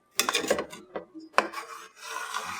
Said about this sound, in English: And I'm using it to kind of deglaze the pan. So scraping down the sides.